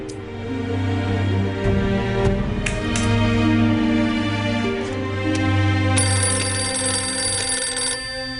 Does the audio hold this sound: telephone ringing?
yes